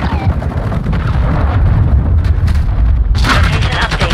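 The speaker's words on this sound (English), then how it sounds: "missile launch." A missile launches in Call of Duty: Modern Warfare II, a loud roaring rush with heavy low rumble that swells into a bright hissing blast near the end, mixed with ongoing battle noise.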